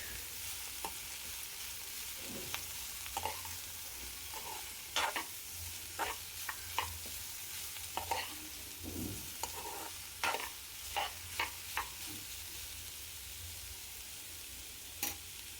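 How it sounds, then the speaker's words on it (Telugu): Beetroot pieces frying in a pan for a beetroot and chickpea curry, stirred with scattered scraping clicks and soft knocks over a quiet, low sizzle; no voices. "బీట్రూట్ ముక్కలన్నీ వేసుకున్న తర్వాత మంచిగా కలిపెట్టుకొని కొంచెం మూత పెట్టుకోండి"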